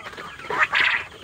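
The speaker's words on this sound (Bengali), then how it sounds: "এই দেখা পাচ্ছ বন্ধুরা কত সুন্দর ডাক দিল। তো আমি চাইবো সকাল কোয়েল পাখির ডাক শুনুন।" Quail call from among poultry on a farm, a short run of loud, close clucking calls that rise in a burst near the middle, alone without talk.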